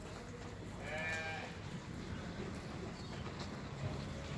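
Sheep bleat amid a busy livestock market crowd on the outskirts of a town, a few clear bleats rising over a steady murmur of distant voices and background bustle.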